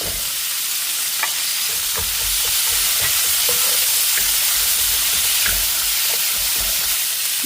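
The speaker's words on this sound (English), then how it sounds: "going in with a neutral cooking oil, and then green beans going in" Green beans and onion sizzle loudly in hot neutral cooking oil in a wok, with close, continuous frying hiss and regular clicks and scrapes from stirring.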